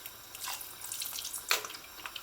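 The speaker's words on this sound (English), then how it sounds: "I'm going to add a dash of liquid aminos" A dash of liquid aminos splashes into a vegetable curry, a brief liquid pour with soft drips and wet splatter, close and fairly quiet, with a sharper splash midway.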